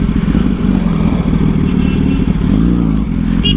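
A 2008 Yamaha R1 motorcycle roars loud and close under riding, its engine drone steady with rising and falling pitch as the throttle shifts, wind rush layered over the constant low rumble.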